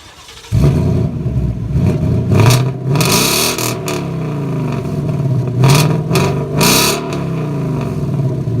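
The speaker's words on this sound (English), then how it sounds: "Here's the exhaust, resonator delete." A 2018 Ford Mustang GT's loud, raspy exhaust with resonator delete starts up close and idles with a deep drone, blipped by several sharp revs.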